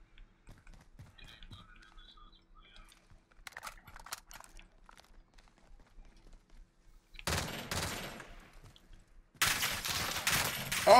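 Gunfire in Call of Duty Modern Warfare, with quiet scattered game noise before two loud bursts of rapid shots near the end, the last one sustained and close.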